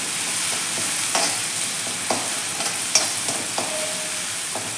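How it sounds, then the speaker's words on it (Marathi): Chili and garlic paste sautéing in hot oil over a low flame for a fenugreek leaf vegetable dish, a steady close sizzle broken by a few clinks and scrapes of a stirring spoon, with no voices. "आपण त्यामध्ये हे मिरची आणि लसूण याचं वाटण घालून घेऊया आणि हे एक थोडंसं छान असं परतून घेऊया"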